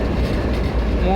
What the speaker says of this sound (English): Slow loaded coal train.